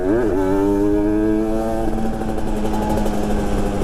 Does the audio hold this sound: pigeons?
no